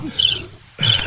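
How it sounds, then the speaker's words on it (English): Crickets chirping in short, bright bursts, with a brief gap before the trilling resumes. The sound is fairly close and clear, with no talking over it. "Supposedly crickets."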